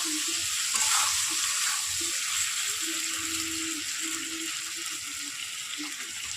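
Chili chicken sizzles steadily in a hot pan with tomato sauce, soy sauce and ground pepper. A spatula stirs and scrapes it now and then, close up, over a constant high hiss.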